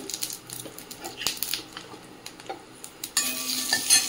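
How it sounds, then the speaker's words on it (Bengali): Dried red chilies and panch phoron hit hot oil, crackling and sizzling close by amid light utensil clinks and stirring, with the sizzle swelling louder near the end. "তেলের মধ্যে দিয়ে দেবো শুকনো লঙ্কা, দিয়ে দেবো 5 ফোড়ন"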